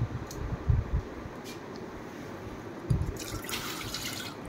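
Water from a cup poured into a pressure cooker on a gas stove, before bananas are added for cooking; a soft, steady splashing wash with a few louder gulps, close by, with no talking.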